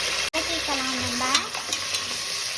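Whole spices for chicken biryani are sautéed in oil and ghee in a pressure cooker, producing a close, continuous hissing sizzle with stirring clatter and a faint voice murmuring underneath.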